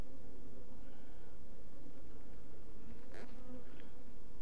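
Honey bees swarm and buzz around an open beehive during a hive inspection, a steady close, dense droning hum that fills the space from start to finish, with no voices.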